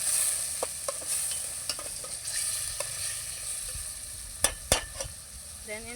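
Ingredients for a mushroom pasta sauté in a pan until browned, a soft continuous sizzle broken by scattered clicks and scrapes of a spatula stirring, with two sharper knocks near the end.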